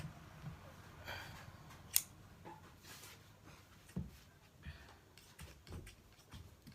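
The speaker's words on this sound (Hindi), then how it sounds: "तो ये कट गई है सलवार" Scissors snip through cloth while a semi-Patiala salwar is cut, giving faint, sparse, irregular crisp cuts close by in a quiet room.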